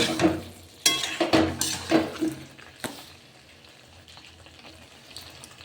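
Water poured into a curry frying in a pan, a brief splash and hiss followed by stirring clatter and sizzling that fades to a quiet simmer.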